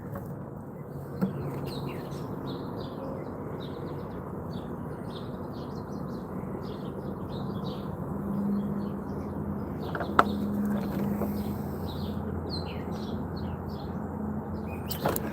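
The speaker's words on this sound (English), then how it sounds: "Can you listen to the birds? Can you hear them?" Many small birds chirp and tweet continuously in the background over a low steady ambient hum, with no one speaking.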